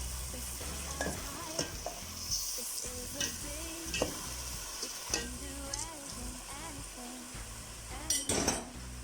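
Washed, drained garlic frying in a pan as a spoon stirs it, with a bright continuous sizzle broken by repeated scraping strokes and light metallic clinks of utensil against pan.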